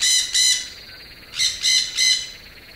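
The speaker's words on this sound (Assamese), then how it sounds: "ৰজাই দেখিলে মানুহে ঘৰৰ পোহনীয়া ভাটৌ চৰাই এজনীয়ে তেওঁলোকক মাতিছে।" A pet parrot calls out in five sharp, bright squawks, two quick ones followed by a pause and then three more, close and loud with no talk.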